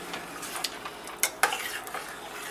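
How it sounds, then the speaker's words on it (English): A spoon stirs mashed potatoes into a pot of potato soup: soft wet churning with scattered sharp clinks and scrapes of the utensil against the pot, close and moderately quiet, no talking. "we're going to stir this all together"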